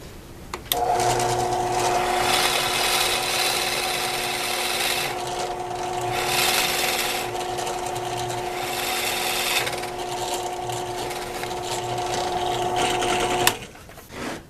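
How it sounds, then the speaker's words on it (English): A drill press whirs steadily with a sustained motor hum and a bit grinding a 1/2-inch hole into wood, running continuously for several seconds before cutting off. "At the drill press now"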